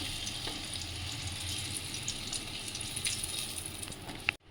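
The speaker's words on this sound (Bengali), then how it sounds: "কাঁচা কলাটা ভেজে নিচ্ছি" Raw green banana fries in hot oil in a pan, a steady dense sizzle and crackle that runs close and even throughout, ending in a quick clatter before it cuts off.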